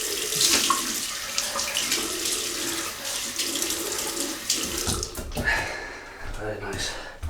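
A tap runs steadily into a sink as a razor is rinsed, a continuous close splash of water with brief changes in the flow.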